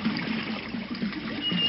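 Calm river water near Oxford heard from a small boat, a soft, steady trickling and lapping close by with almost no current, faint and continuous, with no other boats or voices.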